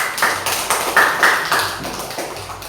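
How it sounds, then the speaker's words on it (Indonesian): Classroom clapping for a student group during a lesson, a rhythmic pattern of group claps in short repeated bursts, close and fairly loud. "Tepuk tangan buat kelompok."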